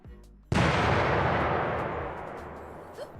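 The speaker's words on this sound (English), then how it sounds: "you'll be able to hear the explosion" A potato masher grenade explodes in a video game with one sudden loud boom, followed by a long rumbling roar that slowly fades over a few seconds.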